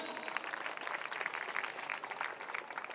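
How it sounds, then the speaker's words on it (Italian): A beauty pageant audience applauds the contestants in a soft, steady patter of many hands clapping, heard from a distance and fairly faint. "Le fanciulle prendono più applausi, molto bene."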